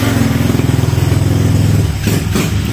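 A motorcycle engine runs close by with a steady, throbbing low putter for most of the clip, then the note shifts and eases slightly near the end.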